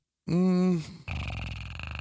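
A voice makes a short tonal growl, then shifts into rapid, rough, raspy breathing noises through the mouth, close and fairly loud.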